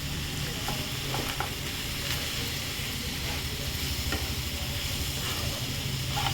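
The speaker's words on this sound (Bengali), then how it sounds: "আবার এটাকে কিছুক্ষণ এই সয়াবিন শুদ্ধগুলো কষাবো" Soya chunks stirred and fried in a pan at home, a steady close sizzle with scraping spatula strokes running throughout, no voices.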